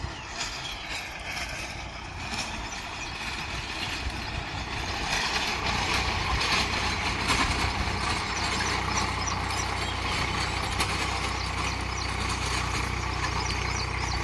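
An old-model Swaraj 735 FE tractor running a rotavator in a dry field, a continuous rumbling engine drone with churning mechanical noise that grows slightly louder midway.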